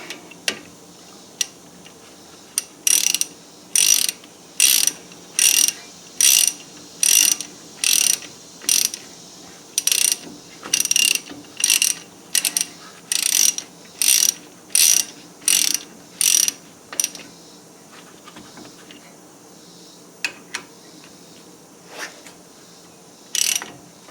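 A ratchet clicks in quick bursts of rapid ratcheting, tightening bolts on the front brakes of a 2018 Honda Ridgeline; the strokes are close, crisp and repeated, with brief pauses between them and a few isolated clicks at the end.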